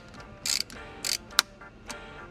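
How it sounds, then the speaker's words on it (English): Bolts on a Duramax diesel truck being snugged down with a ratchet: a few short bursts of clicking pawl action with a sharp tick between, close and fairly quiet, no talking. "I'm gonna snug these down a little bit because they weren't near tight enough."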